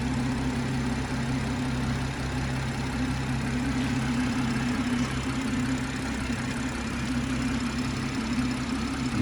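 A BMW M140i Shadow Edition with an automatic gearbox idles steadily, a low, even hum with a faint mechanical tick and no voices over it.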